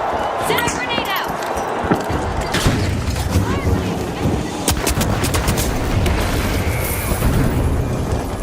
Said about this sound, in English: Send a grenade out.